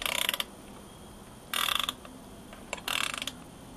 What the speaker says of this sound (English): my first set of Ratchet end wrenches